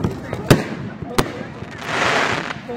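Fireworks go off with two sharp, loud bangs about a second apart, followed by a softer rushing crackle, while people talk over them.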